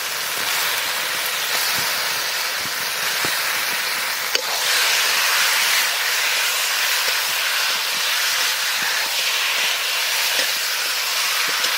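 Raw chicken dropped into a hot pan of oil with fried green chillies sizzles in a loud, continuous close hiss, with occasional sharp pops and crackles throughout.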